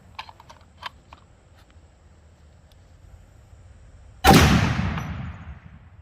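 A rifle shot from an AR-style rifle firing Winchester Power Point 400 Legend 215-grain ammunition cracks loudly, nearby, and decays into a rolling outdoor echo, preceded by faint clicks of loading.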